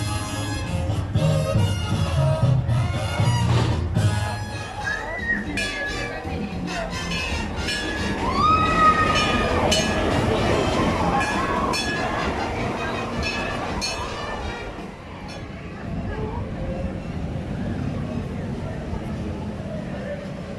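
Runaway Mine Train roller coaster at Alton Towers on a hot summer day, a steady rattling, rumbling rail ride noise running throughout with voices talking over it, easing slightly toward the end.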